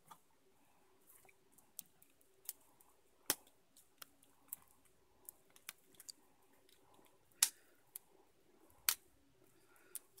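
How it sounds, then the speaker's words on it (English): Wrapped packs of Scoundrels of Skullport quest cards are torn and crinkled open in a quiet room, with scattered sharp clicks and crackles of plastic wrapping arriving irregularly, some louder snaps standing out against near silence. "It seems quite the quest to open up these quest cards."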